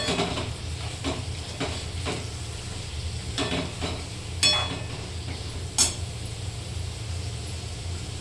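Broccoli stirred in a hot pan, a soft steady sizzle with a few scattered scrapes and clinks of the spoon against the pan, no talk.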